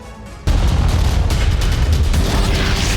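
Explosions at a Russian air base struck by Ukrainian drones: after a brief quieter stretch, a sudden loud, sustained roar of blasts and rumbling booms sets in and continues without letup.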